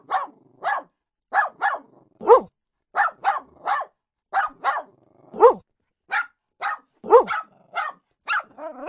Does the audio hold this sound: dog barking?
yes